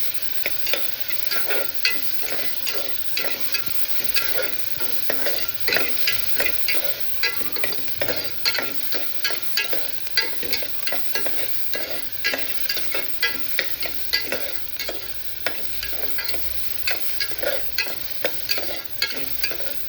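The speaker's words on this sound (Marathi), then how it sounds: "कांदा आपला चांगला लाल झालेला आहे" Onions frying in oil until browned for a black mutton curry, giving a loud, continuous sizzle with frequent spatula stirring clicks, close by and without speech.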